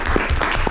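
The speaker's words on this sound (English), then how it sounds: "round of applause for him doing this" A Toastmasters club audience gives a first-time evaluator a brief, dense round of applause, with many hands clapping together at close range.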